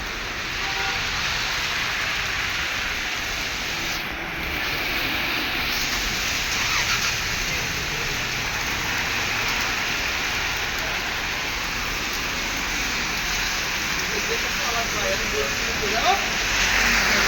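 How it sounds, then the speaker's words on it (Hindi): Heavy rain falls in Madinah, Saudi Arabia, amid strong winds, a steady broadband hiss of downpour that holds constant for the whole stretch, with a brief louder splash near the end and no clear talk over it. "बारिश तेज़ हो गया है।"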